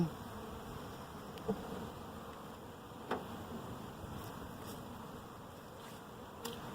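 Honeybees rescued from a tree in Wright City, Missouri, hum in a hive with frames in a steady, quiet drone, with a few faint clicks and taps scattered through the buzzing.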